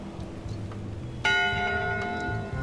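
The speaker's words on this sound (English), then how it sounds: "Ring the bell." In the pirate adventure game Return to Monkey Island, a single ship's bell gives one clear, ringing strike that hangs and fades slowly over quiet background sound, with no talking.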